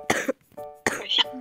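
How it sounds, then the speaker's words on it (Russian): Two sharp, close coughs with a throaty rasp, separated by a short pause, from someone on a voice call during a Multicraft game session. "Хватит кашлять на меня."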